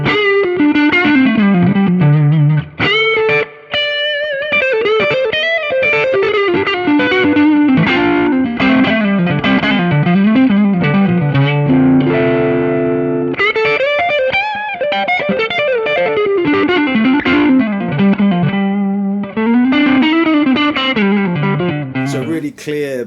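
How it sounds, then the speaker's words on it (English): Strat lead guitar played through a Celestion G12-65 Heritage speaker with light gain from a Strymon Riverside pedal, a clear, bold melodic line of bending sustained notes, loud and up front. "clear, bold sounding sort of Strat lead sound, I'd call that there, with just a touch of gain added from the Strymon Riverside pedal"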